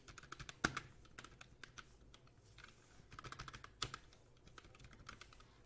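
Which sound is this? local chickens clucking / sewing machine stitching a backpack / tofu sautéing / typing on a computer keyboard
typing on a computer keyboard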